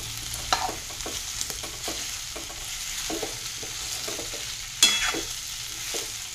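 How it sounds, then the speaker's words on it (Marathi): Chutney is sautéed in a pan over a low flame, with a soft continuous sizzle and repeated clicks and scrapes of a spoon stirring, close and unaccompanied by speech. "इथं छान असे आपल्याला मंद आचेवर परतून घ्यायचे।"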